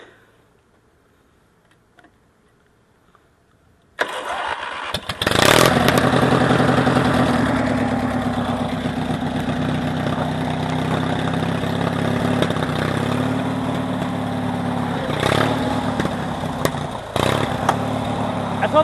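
A modified riding lawn mower engine cranks after a quiet pause, catches and settles into a loud, steady, close-up running drone with a few sharp clanks and rev surges along the way.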